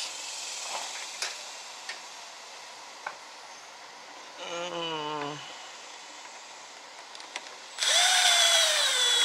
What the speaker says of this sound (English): Right here we're using a T27 to remove these two bolts here